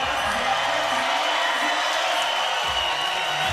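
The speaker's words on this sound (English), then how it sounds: "This crowd is getting loud." Basketball crowd at the 3x3 Europe Cup, a loud, dense wash of cheering and noise filling the arena steadily throughout, with brief indistinct voices underneath.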